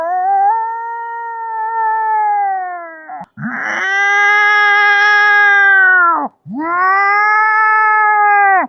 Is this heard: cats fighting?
yes